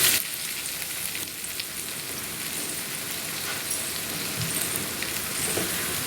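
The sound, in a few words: egg frying in oil for egg fried rice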